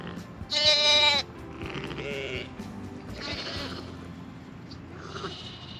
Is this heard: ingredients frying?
no